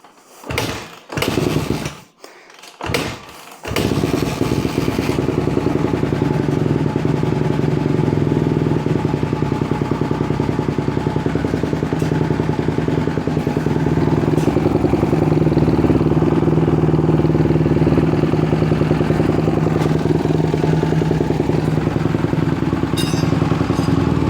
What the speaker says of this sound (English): Running with the choke on.